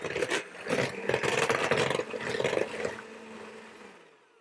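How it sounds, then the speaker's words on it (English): Melted chocolate is whisked into eggs in a bowl, with a quick, steady run of close whisk strokes and scraping that fades away toward the end. "I'm going to whisk it until it's fully combined"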